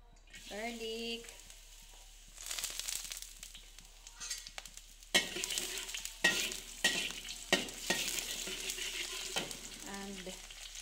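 Garlic fries in a little oil while a utensil stirs and scrapes the pan, a soft sizzle broken by clattering scrapes.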